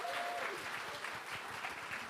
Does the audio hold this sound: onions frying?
no